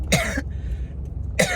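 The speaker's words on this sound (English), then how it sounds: "I have to cough, excuse me." A person coughs in two bursts, one near the start and another about a second later, close and fairly loud, with a quiet pause between them.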